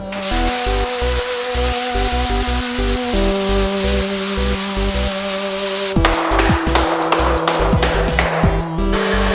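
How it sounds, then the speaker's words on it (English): Loud, steady rhythmic scraping of sanding drywall mud, repeated strokes at an even pace, with a shift in tone partway through. "Sanding is half done."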